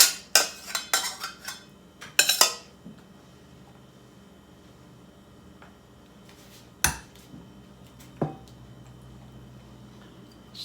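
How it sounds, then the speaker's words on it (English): A spoon scrapes and clinks against a pot while cranberry sauce is stirred, with a quick burst of sharp metallic taps at the start, then a quiet pause and a couple of isolated clanks later. "Stir that around."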